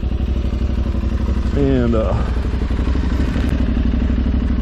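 An Aprilia Tuareg 660 motorcycle engine runs steadily throughout, a loud close rumble with a brief rising rev in the middle, while a person talks over it.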